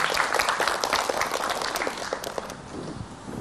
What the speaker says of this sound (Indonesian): Tepuk tangan buat Syekh Ali Jaber.